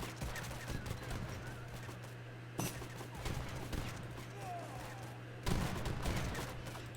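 Organ gun volleys in an Age of Empires III battle tear through dragoons: sharp crackling bursts of massed gunfire hit at intervals over a steady low game-battle rumble.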